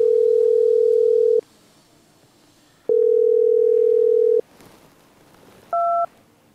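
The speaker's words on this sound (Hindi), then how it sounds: "फोन नहीं उठा रहा जी।" An unanswered phone call's ringback tone sounds alone: two long, steady, evenly spaced tone bursts separated by silence, followed by a short, higher double beep.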